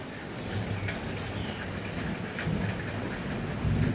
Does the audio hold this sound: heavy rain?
yes